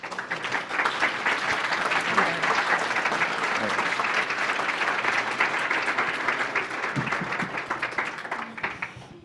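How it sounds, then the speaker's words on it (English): Sustained audience applause filling a performing arts center auditorium, dense and steady throughout before tapering slightly near the end, with a few faint voices underneath. "give them a big round of applause"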